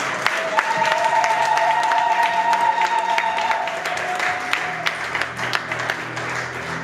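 A church congregation applauds in a sustained, moderately loud wash of clapping, with a held tone ringing underneath early on before the clapping thins out.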